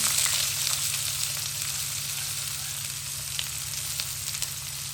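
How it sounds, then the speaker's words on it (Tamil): Chopped onion and fennel seeds fry in hot oil with a constant close sizzle and occasional soft stirring scrapes, no voices. "அடுத்ததாக நாங்கள் வெட்டி வச்சுக்க வெங்காயத்தை போடுவோம்"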